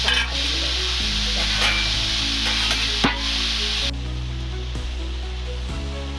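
A spoon stirs grated gourd and moong dal in a hot pan, giving a continuous scraping, sizzling churn with a few sharper clacks over steady background music.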